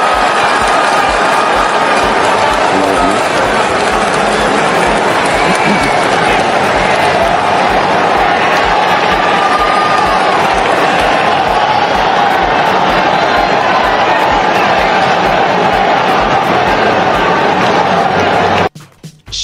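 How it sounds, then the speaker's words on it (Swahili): A huge crowd in St. Peter's Square roars and cheers for the newly announced pope, Leo XIV, a dense continuous wall of sound, loud and sustained, fading abruptly at the end. "Shangwe likitawala hiyo"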